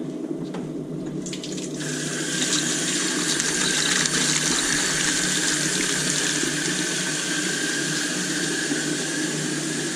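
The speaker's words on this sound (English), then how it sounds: "I like to add a little water right into it." Water pours steadily into a home beer brewing container with a continuous rushing, splashing hiss that starts after a couple of seconds and holds at an even level to the end.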